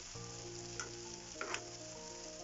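Spices and salt being stirred through vegetables in a frying pan for a mixed vegetable curry, a steady oily sizzle with a couple of brief scraping clicks from the spoon, close and continuous, no talking.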